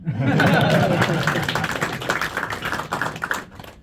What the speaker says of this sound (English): Oh, this is the clapping part.